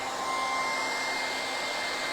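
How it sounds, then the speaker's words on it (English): A hairdryer blows on embossing paste spread over a stencil, giving a loud, steady whooshing drone with a faint whine that holds unchanged throughout. "So you could use a hairdryer to kind of help you to dry that along"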